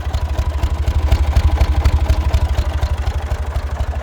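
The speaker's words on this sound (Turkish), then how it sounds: "Egzoz ses de böyle." A close, loud Massey Ferguson 135 tractor engine idles with a fast, even chugging pulse from the exhaust, steady throughout with no talking.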